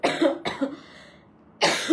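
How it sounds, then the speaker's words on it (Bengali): A woman coughs harshly several times at close range, two quick bursts then a pause and another hacking cough, with no speech. "আমার অনেক কাশি আপু, আমাকে কেশে কেশে লাইভ করতে হচ্ছে"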